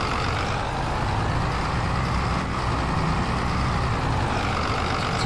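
A lorry engine in a driving game labours up a hill, producing a constant, dense, loud drone with no breaks, with no talking over it.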